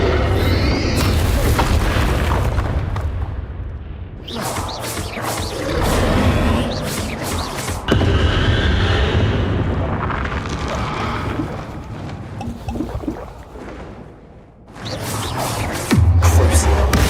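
Explosion spells in Hogwarts Legacy go off as a run of deep booming blasts and crackling bursts in quick succession. The sound is loud and dense, with a few brief pauses between volleys.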